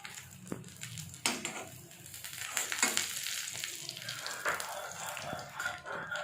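Eggs fry in hot oil in a pan, a soft continuous sizzle with occasional stirring scrapes and small pops close by.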